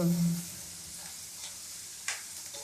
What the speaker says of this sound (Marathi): असं चांगलं परतून घ्यायचं